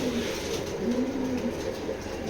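Racing pigeons coo softly and continuously at close range, a low murmuring warble that rises and falls without any talk over it.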